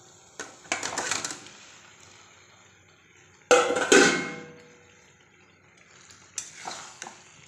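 Soybean chunks and potatoes are stirred in a pan, giving a few separate bursts of scraping and clattering against a faint sizzle, with quiet gaps between the strokes.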